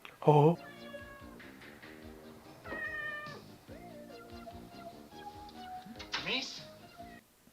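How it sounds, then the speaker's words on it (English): A cat meowing in the 1984 horror film Silent Night, Deadly Night, with one loud close meow followed by softer, drawn-out meows mixed with talk. "They got the cat meowing on camera, staying still."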